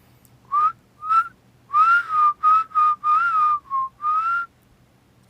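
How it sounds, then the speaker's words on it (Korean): A person whistles a short melody in clear, separate tonal phrases at moderate volume, alone and without talk, against a quiet low hum. "휘파람이 또 잘 나오지"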